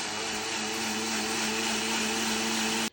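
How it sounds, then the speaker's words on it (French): A blender mixes a protein shake with a steady loud whirring roar that holds for about three seconds before cutting off abruptly, with no voices. "Allez go, ça va faire du bruit."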